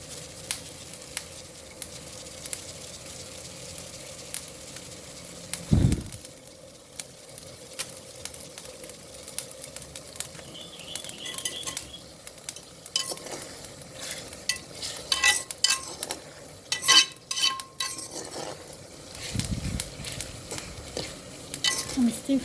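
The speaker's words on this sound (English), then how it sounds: "I'm still frying the onion." Onion frying in oil for fried rice sizzles softly and steadily at close range, with occasional stirring scrapes and utensil clinks against the pan.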